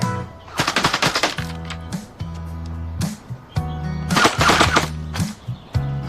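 An arcade shooting game lets off rapid bursts of electronic machine-gun fire, several separate volleys broken by short pauses, loud and close, with no talking.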